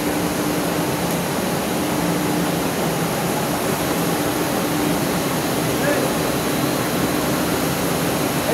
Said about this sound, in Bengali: এই দেখেন মেশিন